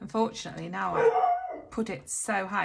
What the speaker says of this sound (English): You'll have to excuse my dog.